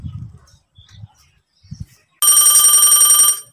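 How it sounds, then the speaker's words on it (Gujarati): After some brief low murmuring, a telephone suddenly starts ringing loud and close, a fast trilling electronic ring lasting just over a second before cutting off. "ફોન આવ્યો"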